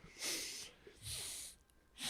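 Quiet, close mouth breathing in a podcast studio: three rough, hissy breaths in an uneven rhythm, each about half a second long, with faint room sound between them.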